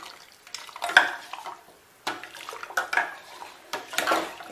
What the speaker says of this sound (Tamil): இது இப்போ நல்லா கிளறிக்கணும்.